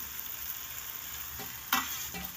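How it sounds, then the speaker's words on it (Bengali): A spoon scrapes through mixed vegetables frying in a pan with a steady background sizzle, including a couple of brief louder stirring scrapes, close with no voices. "তিন মিনিট পর ঢাকাটা খুলে আরেকবার একটু নেড়ে চেড়ে দেবো"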